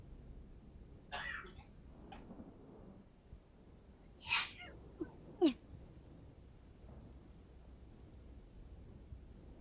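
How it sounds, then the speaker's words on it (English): A person sneezes, with one clear close burst in the middle and a few fainter breathy bursts around it, over quiet background noise and without speech. "I have been sneezing all friggin' day."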